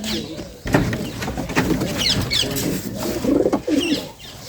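Pigeons coo in soft repeated low calls with occasional higher chirps, fairly close, while people talk over them.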